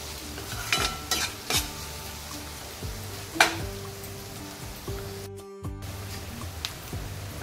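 Finely chopped onions cook in a pan for a bombil masala, a soft sizzle under repeated sharp stirring clinks and scrapes of a spoon against the pan, with a brief quiet gap partway through.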